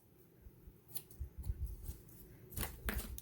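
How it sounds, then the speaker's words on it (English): Scissors snip through a small piece of paper during a paper-craft project, giving a few short, crisp cuts around the middle and end, close and fairly quiet with no talking. "let's go ahead and let's cut off another little piece"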